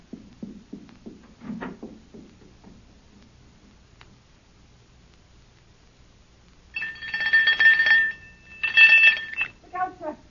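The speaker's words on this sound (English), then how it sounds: "Ring the doorbell." Speech comes first in a radio drama, and then a doorbell rings loudly in two long electric bursts with a short gap between them.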